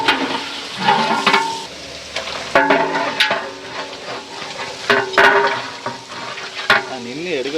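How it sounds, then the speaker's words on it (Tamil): Meat and masala being stirred in a pot for Dindigul biryani, with repeated scraping and clattering of a spoon against the pot over a steady background, loud and close, without talk. "இப்போ வந்து கிண்டி விட்டு மசாலா மேலே போட்டுக்கலாம்."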